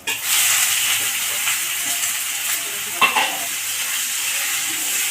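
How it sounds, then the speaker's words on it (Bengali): Onions fry in oil already tempered with dried red chillies, bay leaves, whole garam masala and cumin, giving a loud, steady sizzle. Scraping stir strokes cut through it, with one sharper clatter midway. "পেঁয়াজগুলোকে লাল করে ভেজে নেব"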